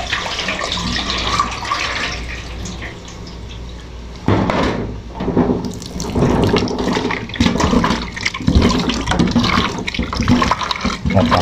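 Beef pieces are washed under a running tap, water splashing and gushing steadily into a sink or bowl with handling noises, loud and close throughout, no speech.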